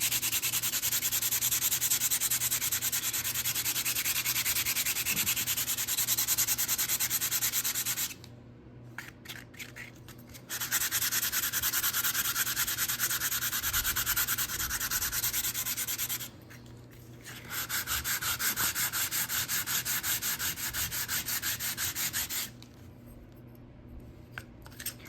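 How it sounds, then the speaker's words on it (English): Steady rasping sandpaper strokes sanding plaster edges scrub back and forth in three long bursts, separated by brief quiet pauses, close and loud. "I'm going to go ahead and start by sanding these down."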